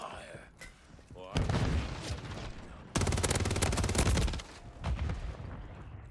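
Rapid automatic gunfire from Modern Warfare 3 comes in dense, loud bursts, with a short pause between two long volleys and a quieter stretch near the end, with some talk faintly underneath.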